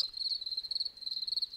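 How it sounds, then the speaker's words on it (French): A field cricket stridulates in the Creuse countryside, a steady high trilling chirp with a fast pulsing rhythm, close and fairly faint against quiet surroundings. "le grillon champêtre."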